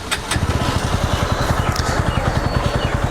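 A Bajaj Pulsar NS160 motorcycle engine runs close by with a steady, throbby idle pulse throughout, after a couple of brief clicks at the start.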